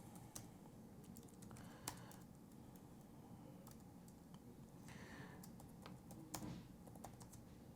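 Steady typing on a computer keyboard with irregular light key clicks and a few sharper taps, close by over a low background hum.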